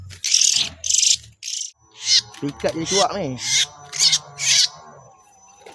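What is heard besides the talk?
oriental magpie-robin calling during bird trapping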